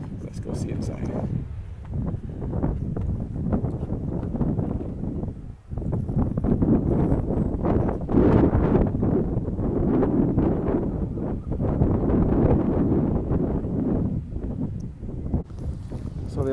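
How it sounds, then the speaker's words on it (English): Strong wind gusting across a mountaintop beside a chapel on an off-route Camino walk in northern Spain, a steady loud rumbling buffet against the microphone throughout, with people talking over it. "It's a little windy. Yeah, you can hear that."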